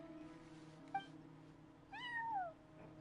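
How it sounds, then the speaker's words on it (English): A cat meows twice in a game scene, a short chirp followed by a longer, drawn-out falling meow, fairly clear over a quiet ambient background. "Where'd that cat come from?"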